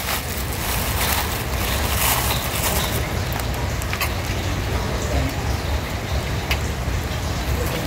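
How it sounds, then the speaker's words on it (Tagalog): Dense, loud roar of heavy rain pouring down close by, continuous and without pause. "Nalakas ang ulan."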